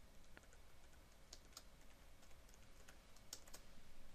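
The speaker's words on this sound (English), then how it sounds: "So type in the password" A password being typed on a computer keyboard, with a few faint, scattered keystroke clicks over steady background hiss and no talking.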